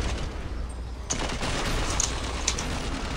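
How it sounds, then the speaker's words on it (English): M14 rifle fire in Killing Floor 2: a rapid string of sharp shots crackles over a steady wash of game noise, with no voices. "I hit like six or eight headshots into him with the M14"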